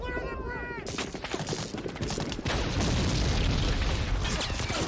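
Dense gunfire and explosions from the war film Saving Private Ryan roar continuously, loud and chaotic, with rapid shots and booms layered over one another and a voice reacting over them.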